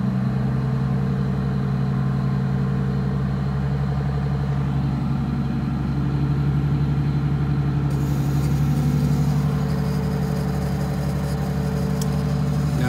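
Bus engine idling with its idle speed raised: a steady, loud, low diesel drone with a rumbling pulse that never lets up. A brighter hiss joins partway through.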